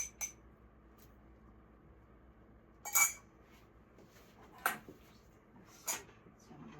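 A small gourmet fork clinks against a glass jar while packing onions, giving a few faint, sparse taps spaced over several quiet seconds.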